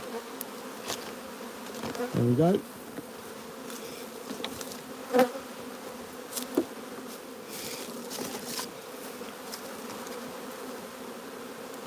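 Honeybees crowd around a nuc hive, keeping up a faint, continuous buzzing hum with occasional closer passes, while someone says a few brief words.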